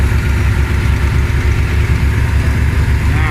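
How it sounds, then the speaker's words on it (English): A Ford E-150 van engine idles steadily, a loud, even low rumble with a regular throb and no voices over it. "the engine is running and I've got a nice steady vacuum"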